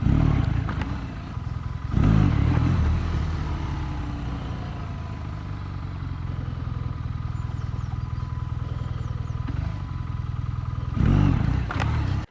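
A motorcycle rolls slowly over a manhole, its engine a steady low rumble with rough clattering bursts near the start and end, close and loud, with no speech.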